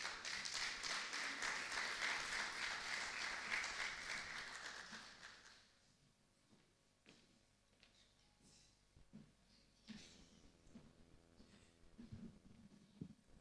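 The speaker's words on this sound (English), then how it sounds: "Please give him a round of applause." Audience applause for a speaker, a wash of clapping that fades out after about five seconds, followed by quieter room sounds with scattered taps and knocks.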